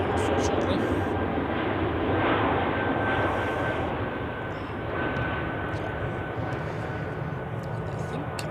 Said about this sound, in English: we quickly go over and take a look at Iceland Air taxiing to Lone Ranger to runway 28